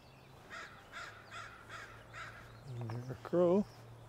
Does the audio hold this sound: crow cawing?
yes